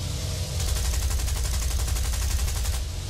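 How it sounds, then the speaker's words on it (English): Pilot's machine gun on a Blenheim bomber in War Thunder firing a sustained rapid burst, loud and dense, with rattling pulses over a low engine rumble. "it has its own machine gun for the pilot to use"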